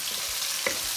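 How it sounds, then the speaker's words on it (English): Crushed Sichuan peppercorns, toban-djan, chili oil and fermented beancurd fry in a wok for mapo tofu, giving a short burst of steady hissing sizzle with one brief spatula tap. "Add the crushed Sichuan peppercorns, toban-djan, chili oil, fermented beancurd. Then fry until fragrant."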